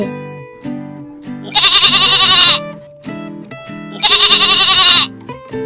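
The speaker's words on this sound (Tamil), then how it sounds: "இதுதான் நம்ம ஆடு." A goat in a children's farm-animal cartoon lets out two long, loud, wavering bleats, separated by light musical tones playing between them.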